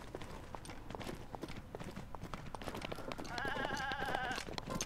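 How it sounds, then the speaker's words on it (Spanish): A goat in The Legend of Zelda: Breath of the Wild gives a wavering bleat near the end, over game ambience with tapping footsteps and clip-clop sounds, fairly faint. "cabra"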